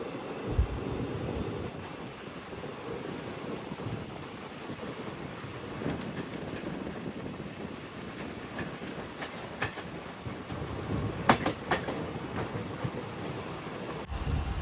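A Guntakal–Markapur Road passenger train rolls along the rails as it slows, a steady rumble with clickety-clack wheel beats and rattling carriages, wind noise throughout, with several sharper squeals and clanks toward the end.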